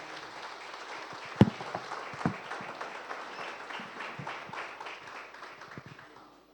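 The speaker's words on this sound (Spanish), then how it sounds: "Démosles un aplauso al Señor, ahí donde estamos, con alegría." A church congregation applauds, a soft, fairly distant wash of clapping with a couple of sharper nearby claps, and faint voices underneath.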